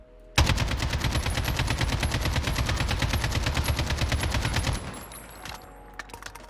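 Sustained automatic AK-47 fire from the Modern Warfare video game, a dense rapid stream of loud, close shots lasting about four seconds before cutting off into a quieter tail with a few faint clicks.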